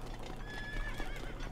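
A horse in the video game Breath of the Wild whinnies with a rising, wavering neigh over a steady patter of hooves, up close and clear, with no talking.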